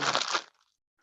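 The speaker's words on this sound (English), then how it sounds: "these things are crunchy Cheetos, but they're white cheddar instead of the yellow cheddar" Crunchy white cheddar Cheetos being bitten and chewed up close: a dense burst of loud, dry crunching for about half a second that cuts off into near silence.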